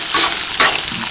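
Chana dal, garlic, chillies and tomato sizzle and crackle in a hot pan, a loud close frying hiss with a couple of brief stirring surges.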